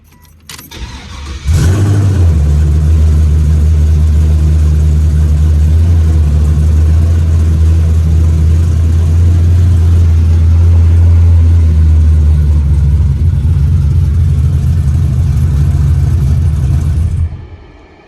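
A 1989 Chevrolet Caprice LS with a swapped 6.0 engine cranks and fires after a brief pause, then settles into a loud, steady, deep idle that runs uninterrupted until it cuts off.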